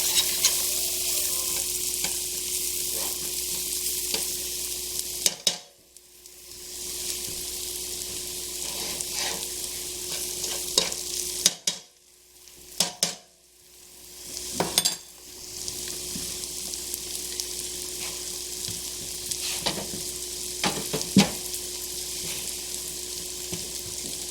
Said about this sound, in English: When I toast the seasonings this way, it just adds more flavor